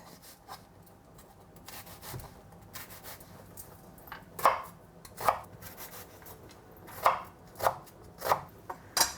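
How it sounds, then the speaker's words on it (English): A knife chops spring onions steadily on a board, six or so sharp knocks spaced about a second apart after some quieter scraping. "Just chopping this up."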